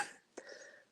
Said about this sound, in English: I got the coughs.